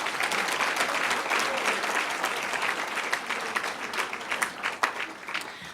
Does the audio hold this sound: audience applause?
yes